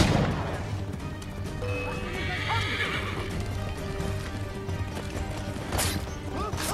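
Horse neighing and clip-clopping hooves in the video game Assassin's Creed 3, a steady busy game soundscape with a drawn-out whinny in the middle and hoof clatter throughout, loud and close, with no talking.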